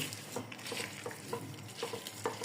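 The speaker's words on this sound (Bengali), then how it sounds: "এখানে আমি কিছু সর্ষের তেল দিয়ে দিব এবং এটাকে সুন্দরভাবে মাখবো" Food is mixed by hand with Bhutta-brand mustard oil, salt and turmeric, giving soft wet squelching and stirring sounds in an irregular rhythm, close and fairly quiet, with no talking.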